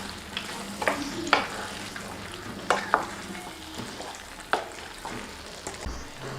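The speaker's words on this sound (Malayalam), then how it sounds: "ഇനി നമുക്കിതിലേക്ക് ആവശ്യത്തിന് ഉപ്പും കൂടെ ചേർത്തിട്ട് ഇളക്കി കൊടുക്കാം" Spice powders cooking with salt for an instant lemon pickle, a steady low sizzle broken by sharp clinks and scrapes of a spoon stirring in the pan.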